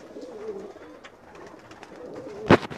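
Pigeons on a rooftop loft give soft, low cooing throughout, with a sharp louder flutter or clap near the end.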